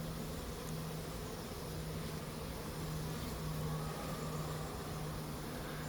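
A honeybee swarm streams into a hive during swarm catching: a steady, low buzzing drone of many bees hums continuously near the microphone, with no talking.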